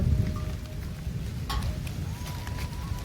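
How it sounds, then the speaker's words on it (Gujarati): Rain falls steadily in a village with a constant broadband hiss and low rumble, fairly close, with a faint tonal hum in the background and no talking. "વરસાદ સુધી ચાલુ થઈ ગયો છે તો જુઓ કેટલો વરસાદ પડે"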